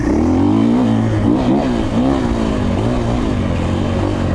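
A 2024 KTM 450XCF-W dirt bike warms up on a grass track, its engine loud and close, rising and falling through repeated revs with a rough, throaty four-stroke tone and no talk.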